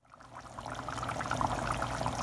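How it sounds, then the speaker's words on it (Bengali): Pieces of fried mrigal fish going into a simmering vegetable curry, giving a steady wet bubbling and pouring wash that swells slightly over a couple of seconds, close and fairly quiet. "এখন আমি এখানে আমার মৃগেল মাছগুলো যেগুলো ভেজে রেখেছিলাম ওগুলো দিয়ে দিব"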